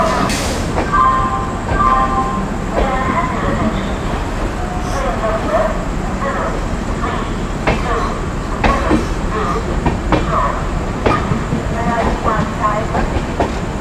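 Inside the Howrah Duronto Express while it runs, a loud, constant rumble carries rhythmic clickety-clack from the wheels, with faint voices mixed into the din.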